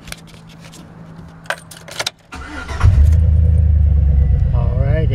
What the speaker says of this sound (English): I'm gonna go ahead and start the truck